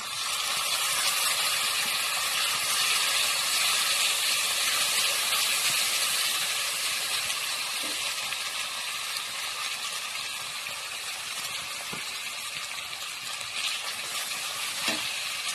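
Ginger-garlic paste sizzles and fries steadily in a pan for a potato and tomato curry, a continuous close hiss with occasional faint clinks of stirring, no talking.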